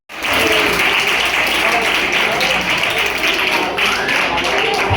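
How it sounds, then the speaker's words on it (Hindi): An audience applauds a school play performance, the clapping loud, dense and sustained from start to finish with occasional voices mixed in. "आपकी तालियों की गड़गड़ाहट भी इस बात की गवाह है कि ये प्रस्तुति आपको कितनी पसंद आई"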